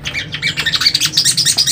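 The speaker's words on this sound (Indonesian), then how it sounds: "nah ini sama-sama burung bahan semua nih" A wild-caught songbird calls up close in a rapid series of sharp, bright chirping notes, loud and evenly rhythmic, with no talking over it.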